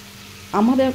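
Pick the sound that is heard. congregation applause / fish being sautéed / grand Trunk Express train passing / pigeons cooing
fish being sautéed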